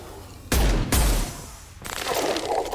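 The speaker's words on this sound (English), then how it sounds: "Firing a high-impact shot!" A high-impact gunshot in Mass Effect 2: two heavy, booming blasts half a second apart. A longer rumbling burst follows, then a noisy, fading tail.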